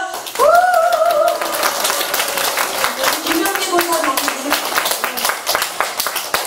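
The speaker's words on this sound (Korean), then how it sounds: "그럼 박수 한번 쳐주세요" Clapping from a church senior-college audience welcoming new members, moderate and scattered under continuous speech throughout.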